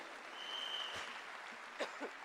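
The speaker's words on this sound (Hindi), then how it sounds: "आप ताली बजा सकते हैं" Audience applause at a seminar-style event, a steady wash of clapping that stays fairly faint and even throughout, with no talk over it.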